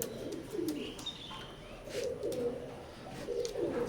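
A pair of teddy golden pigeons coos close by, soft low throaty calls repeating in short rolling bursts over a light background hiss, with faint chirps from other birds.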